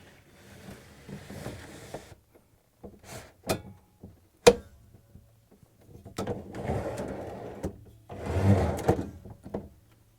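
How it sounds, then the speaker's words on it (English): A Samsung DA97-10595D rail assembly slides into its support rail, producing close, sharp clicks and knocks with scraping slide noises in separate bursts, ending with a longer rattling push. "we're going to insert this new rail assembly into the support rail. And we're going to push it in."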